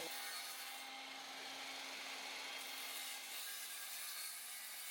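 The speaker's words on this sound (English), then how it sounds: "Then I cut them with my Works cordless miter saw" A Works cordless miter saw cuts through cardboard packaging flaps, producing a steady, faint, continuous rasping hiss with a low hum beneath it.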